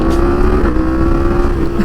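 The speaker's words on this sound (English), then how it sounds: "Wow, when you get on it, it sounds just like Alex's bike" A 2017 Yamaha FZ-10 1000cc naked motorcycle engine pulls hard under acceleration, a loud, steady, close droning roar with a strong tonal hum held throughout.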